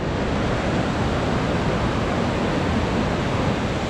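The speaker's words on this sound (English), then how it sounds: "We're still on the trail, but there's a waterfall." A waterfall beside the Crystal Mill Trail in Colorado gives a constant, dense rush of falling water. The roar stays loud and unbroken throughout, with no voices over it.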